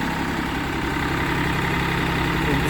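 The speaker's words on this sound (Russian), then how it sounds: "у нас трактор работает всего на 1300 оборотов, 1200 даже" Mitsubishi MT185 tractor with a front loader idling at low rpm, around 1200 to 1300, a steady close mechanical drone with a low hum and even rattle throughout, no speech.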